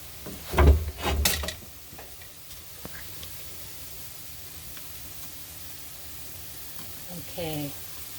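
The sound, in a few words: curry meatballs frying in pan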